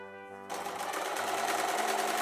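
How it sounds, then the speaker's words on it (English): A sewing machine machine-bastes the waistline of a pleated skirt, starting abruptly and running in a fast, steady, even whirring stitch rhythm, close and alone after a brief soft tonal lead-in. "I machine basted the waistline of the skirt before joining it to the fashion fabric of the bodice"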